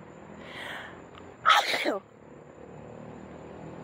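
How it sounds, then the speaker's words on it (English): A single sharp, loud human sneeze bursts out close by after a quiet breath, against faint background noise. "that was a double sneeze."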